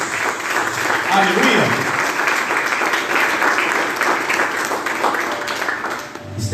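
A church congregation applauds during a morning worship service, a dense wash of clapping that carries on for several seconds, with a voice calling out over it.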